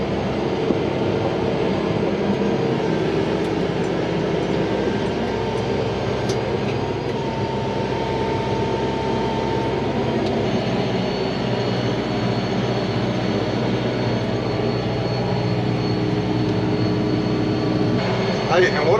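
A tractor with 1,776 hours on it runs while baling red, white and blue rolls of hay, giving a loud, steady engine drone with mechanical rumble throughout.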